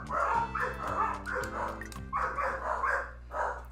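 Neighborhood dogs barking outdoors, a rapid series of repeated barks in quick bursts, moderately distant, under a steady low hum from indoors.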